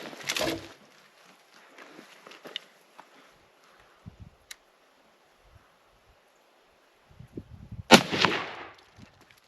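Hunting rifle fired at a plate target outdoors through brush, two sharp loud cracks several seconds apart, each trailing into a brief echo, with quiet rustling between.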